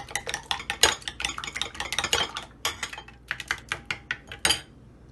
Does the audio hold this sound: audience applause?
no